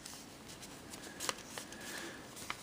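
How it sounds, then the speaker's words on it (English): Origami paper is folded back along a diagonal crease while a flying squirrel model is made, with a soft, close, continuous papery rustle and a few crisp crinkles and snaps, and no talking. "fold back along this line"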